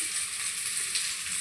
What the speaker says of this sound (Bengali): উচ্ছে ভাজা হচ্ছে এই সবজিগুলো দিয়ে